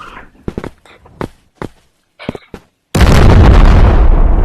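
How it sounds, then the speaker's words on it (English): Several sharp pops and thuds from a video game, then a sudden, very loud explosion that roars steadily to the end, close and overwhelming. "Oh, everything just exploded away."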